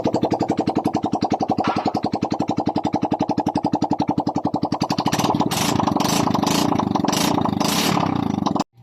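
Yamaha Mio Soul i 125 scooter with an oil leak in the rear wheel hub, its engine chugging in a fast, even putter before revving up into a louder, rougher roar that cuts off abruptly at the end.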